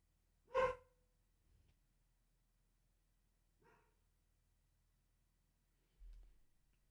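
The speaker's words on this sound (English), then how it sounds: "I don't know what he's barking at" Dog barking indoors: one loud sharp bark close by, followed after a pause by a fainter second bark, with quiet room noise in between.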